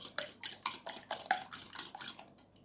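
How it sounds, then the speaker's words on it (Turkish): Eggs whisked in a bowl for a Turkish soda-water börek made with ready-made yufka, giving a steady run of quick clinking, scraping strokes at close range, with no talking. "Öncelikle yumurtaları bir kaba koydum. Şöyle çırpıyorum."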